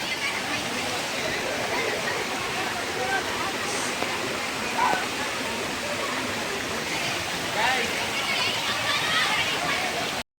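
Water rushes and splashes steadily at the Jatashankar Mahadev temple in the Girnar forest, a loud continuous stream filling the whole stretch, with voices briefly calling over it.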